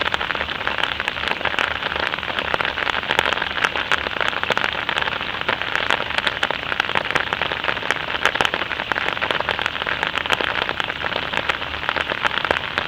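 Steady rain falls by the sea, a dense, even hiss of drops pattering on a surface with fine crackles throughout, continuous and moderately loud with no voices.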